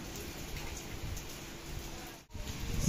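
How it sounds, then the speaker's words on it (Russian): Steady outdoor rain in Turkey in November pours down as a soft, even hiss with scattered drips, faint and continuous, briefly dipping before swelling louder. "но дождь нам все испортил"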